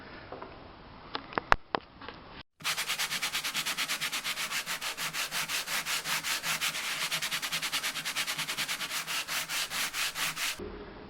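Angle grinder cutting and cleaning back heavily rusted metal on a Maserati Spyder body, starting after a few sharp knocks and a short pause, then a loud, steady abrasive grinding that pulses rhythmically for about eight seconds before stopping abruptly.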